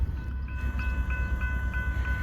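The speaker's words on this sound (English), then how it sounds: "So we got another train coming from the west, headed eastbound." Eastbound freight train passing near milepost 468 at Chewalla, Tennessee: a loud, close, continuous low rumble with regular rhythmic clanks of wheels and cars.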